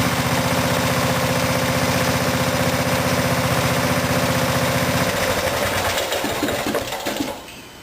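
A Craftsman riding mower engine runs at a steady, loud idle with a rhythmic buzz, then stalls after about five seconds once its carburetor fuel solenoid is disconnected, sputtering and winding down to quiet.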